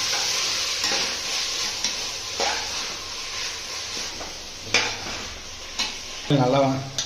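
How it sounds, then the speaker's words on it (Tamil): Tomatoes sauté in an oily pan for a home-cooked paneer biryani, a soft continuous sizzle broken by several scraping stirs of a spoon against the pan. "தக்காளி போட்டு நல்லா வதக்கிக்கணும்."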